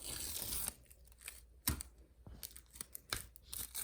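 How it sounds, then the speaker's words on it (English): Tape being torn off the back of a piece of machine embroidery, heard as quiet close ripping and crinkling in short irregular bursts with no voices. "Make sure you take the tape off on the back side."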